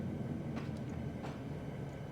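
Rail cars in the Trainz 12 train simulator rolling downhill to couple, a continuous low rumble of wheels on track with a couple of faint clanks.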